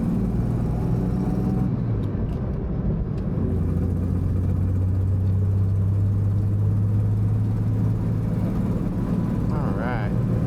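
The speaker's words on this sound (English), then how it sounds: "Motoring along, right about 65 miles an hour." A 1971 Jaguar E-Type Series 2 with a 4.2-litre engine and manual gearbox cruises at about 65 mph, giving a steady low engine drone and road roar that continue throughout, with a voice talking over it.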